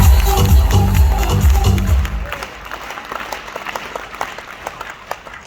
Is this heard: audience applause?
yes